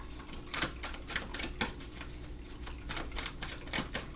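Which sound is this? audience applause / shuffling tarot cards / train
shuffling tarot cards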